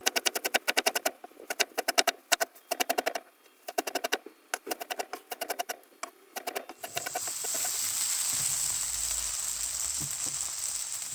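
Potatoes browning in a pan break into a steady, bright sizzle partway through, following a run of rapid, close knife taps on a board as fenugreek leaves are chopped.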